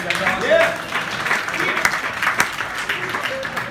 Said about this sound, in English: give yourselves a round of applause for coming out and supporting live comedy